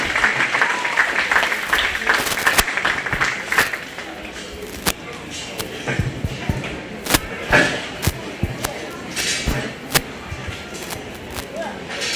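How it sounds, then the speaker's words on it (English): Applause at a county fair livestock showmanship ring as showmen exit, loud clapping that gradually thins into scattered claps and thumps, with an announcer talking over it. "Let's give them a big round of applause as they go ahead and exit, please."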